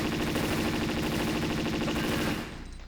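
Rapid automatic gunfire from two gunmen in a Tomb Raider custom level set in an Incan ruined city, a dense unbroken rattle of shots lasting a couple of seconds before cutting off, with no talk.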